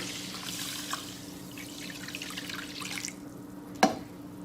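Two cups of water poured into a pan holding quinoa, a steady trickling splash for about three seconds that then stops, followed by a sharp clink.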